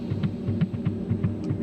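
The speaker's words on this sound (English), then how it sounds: "Drum rhythm sounds like a heartbeat sometimes" Steady low drum pulse from the video game Tokyo Dark, beating like a heartbeat with a throbbing, humming rhythm, repeating evenly and prominently with no voices.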